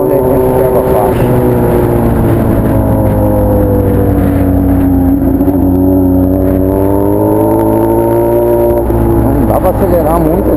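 A Honda Hornet motorcycle with a 3-inch exhaust roars loudly and continuously, its engine note rising and falling with revs, close and dominant throughout.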